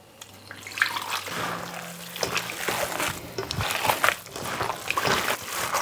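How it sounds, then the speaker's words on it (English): Water pours into a pork belly curing brine already mixed with spices, a splashing, trickling stream that swells and churns unevenly for several seconds, close and fairly loud, with no talking. "And now we're gonna add the water."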